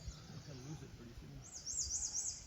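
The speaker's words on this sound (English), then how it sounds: "So many sounds in this forest. I have no idea what that is. Some kind of bird." Bright, repeated high chirps of an unidentified bird ring out in the second half over a quiet forest background in the Shenandoah Mountains, with some low murmuring earlier; the birdsong seems moderately distant.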